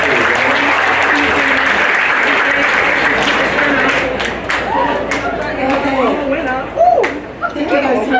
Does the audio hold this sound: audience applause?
yes